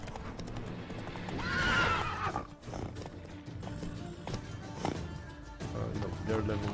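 In a video game, a horse gives a loud, close whinny, and its hooves clip-clop in a steady trotting rhythm.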